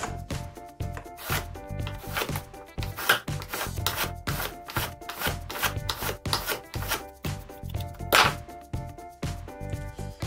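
A steel burnisher scrapes repeatedly along the edge of a putty knife to raise a burr for a card scraper, making a rhythmic series of sharp rasping strokes, close and loud, with no voices.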